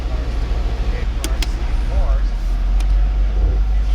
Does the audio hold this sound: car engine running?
yes